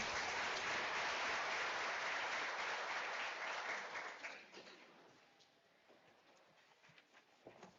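Conference audience applauding a speaker at a national records management conference, a steady dense wash of clapping for about four seconds that fades quickly into a few scattered claps, fairly faint overall.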